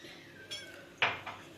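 A spoon scrapes and clinks against a container while frozen spinach is stirred with a spoonful of sugar, with two or three short, close metallic strokes against quiet background.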